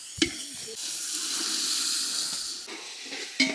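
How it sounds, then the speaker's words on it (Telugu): Gravy for village-style country chicken biryani bubbling and hissing in a pot, a steady close steamy sizzle with a couple of brief clinks at the start and end. "గ్రేవీ బాగా ఉడుకుతుంది"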